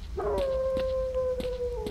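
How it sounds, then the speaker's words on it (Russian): Dogs howl in the video game S.T.A.L.K.E.R. Lost Alpha, near a village by a swamp: a long, sustained, wavering howl holds steady across the moment over a low ambient rumble, with a few faint clicks and no talking. "Тут собаки, что ли?"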